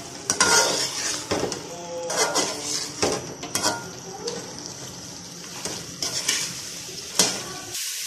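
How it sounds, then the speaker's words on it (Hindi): Biryani masala with roasted crushed coriander being roasted and stirred in a pot, with repeated scraping strokes of a utensil against the metal, occasional clinks and a soft sizzle underneath, close and fairly loud. "इसको अच्छे तरीके से भून लेंगे"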